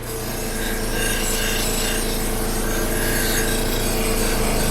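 Steady, close scratchy rasp of a fine brush scrubbing a small metal part from a Mercedes W108/W109 rear axle, continuous and even for the whole stretch with no talk.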